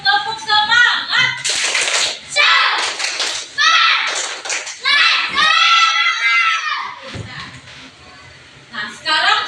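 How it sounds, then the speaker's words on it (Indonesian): Primary schoolchildren in a classroom perform a rhythmic spirit clap, bursts of patterned hand claps alternating with loud chanted children's voices in quick call-and-response phrases. "coba kita tepuk semangat dulu"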